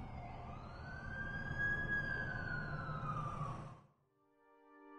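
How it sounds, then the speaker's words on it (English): Ambulance siren in the Spider-Man video game, a single rising and falling wail passing close and loud before cutting off abruptly, followed by a brief tonal game sound. "That's the ambulance I called."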